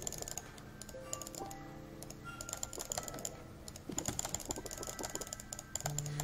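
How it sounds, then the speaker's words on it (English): Mouse clicks in a video game's menus come as quick, irregular ticks, faint and close, scattered over a quiet bed of soft game music with no talking. "some intricate clicking over here"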